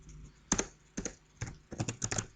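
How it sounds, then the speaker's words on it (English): Keys on a calculator are pressed quietly, giving about six or seven separate clicks, some doubled, at an uneven pace close to the microphone. "let's type that into our calculator"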